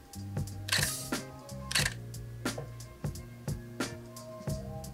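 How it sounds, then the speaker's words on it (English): Canon EOS R5 mirrorless camera firing its shutter in a series of about eight sharp, close clicks, several coming in quick pairs, heard alone in a quiet room with no talking. "The sound of the shutter is disgusting."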